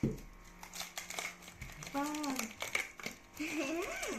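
A crinkly sweets wrapper is opened with bursts of rustling and crackling while children and an adult talk over it nearby.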